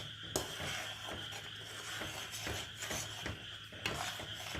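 A spoon scrapes and stirs a thick gram flour and grated coconut vadi mixture in a pan over a low flame, making repeated soft scraping strokes with light metallic taps at irregular intervals, close and quiet.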